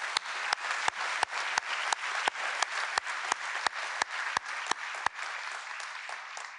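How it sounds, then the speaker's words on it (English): Audience applause at a Pacific University College of Optometry white coat ceremony, a steady wash of many hands clapping with sharp individual claps standing out, sustained at moderate level and tapering slightly toward the end. "Yeah, we can clap for them."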